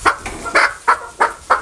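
Large domestic hens of one of the biggest breeds cluck close by in five evenly spaced, loud calls, each a short throaty burst, with no talk over them.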